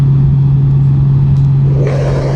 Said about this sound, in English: 80 miles an hour. My visor's up on my motorcycle.